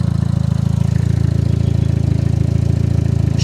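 A 2020 Chevy Sonic engine idles close by at an auction lot, a steady low throbbing rumble with an even rapid pulse, loud and alone with no talk.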